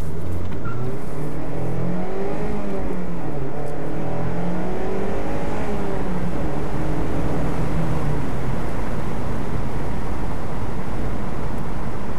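A 2016 Mazda MX-5 Miata accelerating, heard from inside the car: engine pitch climbs through successive gears in rising sweeps, loud and continuous over heavy road and wind rumble, with no speech.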